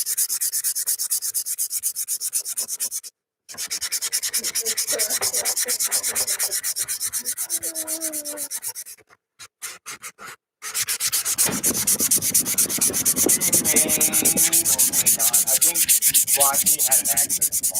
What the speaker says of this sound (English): I haven't even been sanding on it that long.